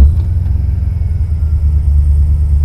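A supercharged LS V8 on flex fuel idles with a deep, steady low rumble, settling evenly at its target idle speed, close and alone with no voices.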